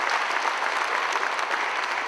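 Steady applause from a gala audience at a fairy-tale evening, a dense, continuous patter of many hands clapping at close range for the full length, with no talk over it.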